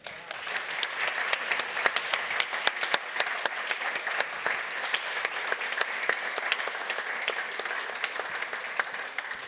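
A conference audience applauds steadily and fairly loudly, a dense sustained wash of many hands clapping with scattered sharper claps, no speech over it.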